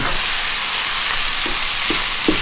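Macaroni pasta with spicy chicken tossed and stir-fried in a hot pan, giving a steady loud sizzle with a few soft scraping strokes near the end, no voices.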